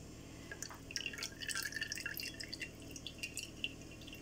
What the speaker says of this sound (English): here I am going to pour this oil into the pan